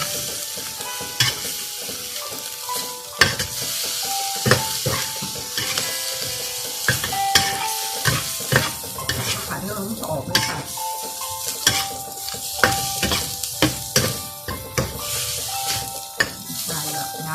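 Blanched squid stir-fried in a pan with fish sauce, sugar, seasoning and basil leaves: a loud, close, steady sizzle broken by frequent metal spatula scrapes and clanks against the pan, with no talking.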